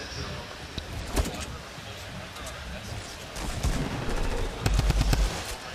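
Gunfire in a Fortnite grand final match, with scattered shots and short bursts over a dense, steady game-mix background and other in-game noises, moderately loud.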